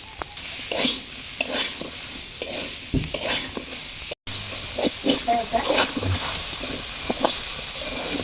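Soybean, potato and taro stir-fried in spice masala, with steady sizzling and frequent scraping and stirring strokes of a spatula in the pan, close and moderately loud, broken by a brief dropout midway.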